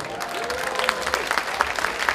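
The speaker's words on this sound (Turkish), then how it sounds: "bu güzel mutlu çiftleri öncelikle bir alkışlayalım" Wedding guests applaud the newly married couple, a dense burst of clapping from a crowd, steady and fairly close for a couple of seconds with voices mixed in.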